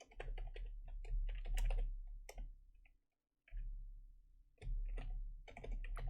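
Rapid clicking keystrokes on a computer keyboard, close and crisp, typed in quick bursts with a brief silent pause in the middle.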